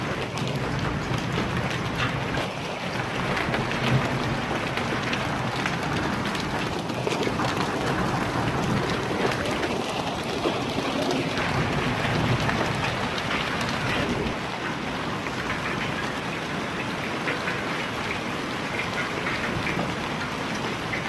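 Steady heavy rain pours down with large hailstones, a dense continuous patter with harder drops drumming on surfaces throughout, no voices.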